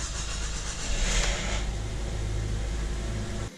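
2007 Mazda 3 engine idling just after a fuel pump replacement, a steady low mid-pitched hum with a brief surge near the start, cutting off abruptly at the end.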